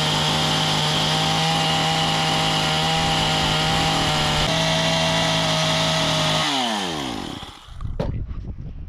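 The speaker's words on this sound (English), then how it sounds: "I'm going to be brushing this with a chainsaw and I don't want it to tear out the wood." A chainsaw runs at a steady high whine while cutting along a knife-scored line in a wooden beam for a sawmill shed, then winds down and sputters to idle near the end; loud and close, with no voices.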